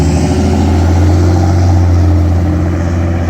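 Traffic on a city street at 5th and Central in New Mexico, a loud continuous engine rumble and drone with no talking.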